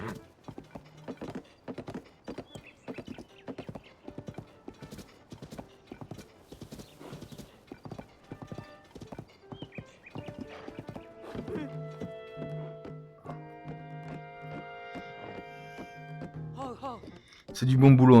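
Horse hooves clip-clop in a steady run of many sharp, evenly spaced knocks in Zelda: Tears of the Kingdom, with game music rising later and a brief horse whinny near the end.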